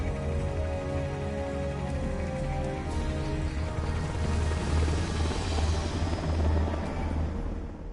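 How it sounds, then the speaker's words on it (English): A Hind helicopter gunship in the video game Metal Gear Solid, a continuous rotor drone swelling slightly louder midway then fading, alone without talk. "what's a Russian gunship doing here?"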